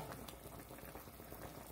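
A pot of sinigang soup with milkfish and pechay simmers, a faint, steady bubbling boil heard up close.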